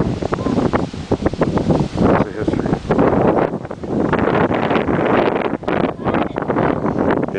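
Strong wind gusts at Troy overlooking the Dardanelles buffet the microphone in loud, continuous roaring bursts, close and rough throughout.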